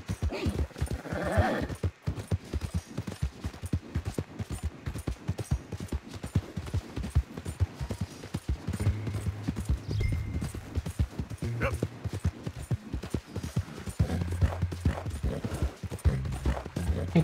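A horse gallops in Red Dead Redemption 2, with rapid rhythmic hoofbeats that run throughout, close and steady, alongside occasional snorts and game sounds.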